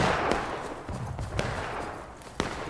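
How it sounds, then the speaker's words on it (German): Sharp gunshots crack at irregular intervals over a dense, rumbling background of battle noise in the video game War of Rights. "da fliegen schon die Kugeln um die Ohren. Man hört's."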